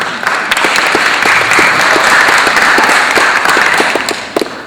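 A school audience at a ninth-grade presentation claps for a staff member, a loud, dense burst of applause that holds steady for several seconds before thinning out at the end.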